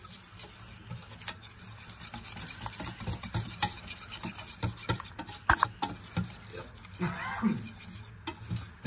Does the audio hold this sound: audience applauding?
no